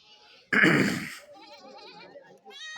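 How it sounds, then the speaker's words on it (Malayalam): At a goat market, a goat lets out a loud, close bleat, followed by quieter wavering bleats from other goats nearby. "കറവയുള്ളതും കറവയില്ലാത്തതുമായ ആടുകൾ വന്നിട്ടുണ്ട്"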